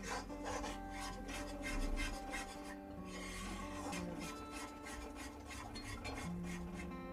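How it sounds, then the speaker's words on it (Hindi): Gram flour roasts in ghee as a spoon stirs it around a pan, making soft repeated scraping and rasping strokes in a quiet kitchen. "आप इसको चलाते रहिए जिससे कि अच्छे से भून जाए और नीचे चिपके नहीं।"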